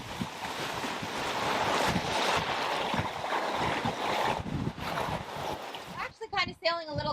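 A sailboat on an Atlantic crossing runs slightly closer than a beam reach through big ocean swell, with steady rushing water and wind noise, and a voice speaks briefly near the end.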